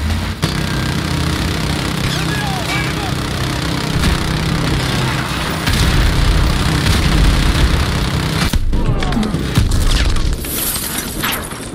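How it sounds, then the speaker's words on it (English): Sniper fire during a Modern Warfare 2 battle, dense and loud, with sharp reports and booming impacts over a constant roar of engines and gunfire; a louder crack-like burst stands out near the end. "We're taking sniper fire from multiple directions."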